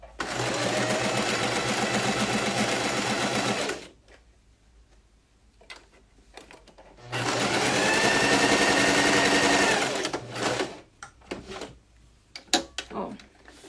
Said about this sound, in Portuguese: 2 tipos de acabamentos na máquina doméstica